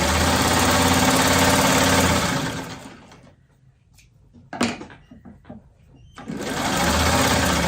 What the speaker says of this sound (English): either run something I'm sewing through the machine